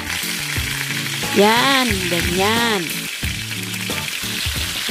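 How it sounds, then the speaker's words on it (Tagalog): Fish frying in hot, bubbling cooking oil, a loud steady close sizzle with crackles, while a person speaks briefly over it. "Pag kumukulo na yung mantika, ilagay na yung isda."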